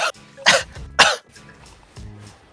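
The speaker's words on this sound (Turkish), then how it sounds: "Tam da öksürme." Several dry coughs, two loud and close together near the start, then fainter coughing and throat clearing, from a person in a casual family group chat.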